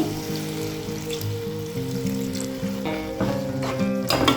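Water is poured into a simmering brinjal and tomato curry with chilli powder, a soft trickling splash over faint sizzling, with small clinks near the end.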